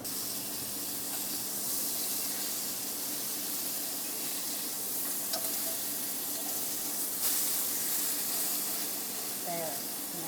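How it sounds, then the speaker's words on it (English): Pork chops frying in a pan in a country store kitchen, a steady close hiss and crackle of sizzling fat running throughout with small pops and light utensil clinks. "Those pork chops are sounding pretty good over there."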